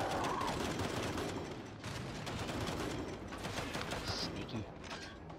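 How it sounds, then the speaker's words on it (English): Gunfire in Gears 5 during the Waterworks water tower level, dense rattling bursts and clattering mechanical clicks that run almost continuously at moderate loudness, with brief dips between volleys. "They're still shooting."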